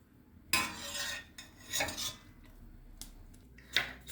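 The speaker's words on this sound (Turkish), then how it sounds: "Patateslerimi soğuk suya bırakıyorum." Potatoes set down into a pot of cold water on a stovetop, heard as a few distinct clanks and knocks of pot and utensil, spaced apart, fairly close.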